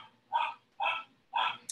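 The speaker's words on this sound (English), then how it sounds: "You start a Zoom call and the dogs start barking." Three loud dog barks spaced about half a second apart, sharp and close, with quiet background between them.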